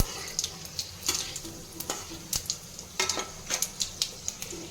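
Whole spices temper in hot oil for a wedding-style mutton kosha, a low sizzle broken by repeated sharp pops and crackles at uneven intervals, close and fairly quiet with no talking.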